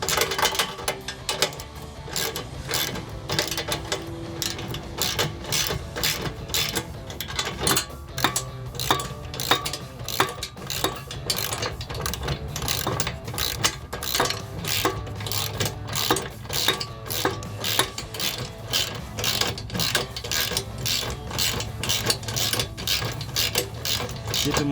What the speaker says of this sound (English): I'm going to come in with my 5/8 with my socket wrench and with a 5/8 socket.